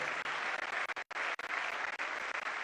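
Crowd applause for Congolese president Félix Tshisekedi at an official ceremony, a thick continuous roar of clapping with one brief dip near the middle before surging back.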